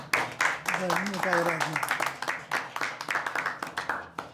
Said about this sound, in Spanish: podemos cerrar con un aplauso.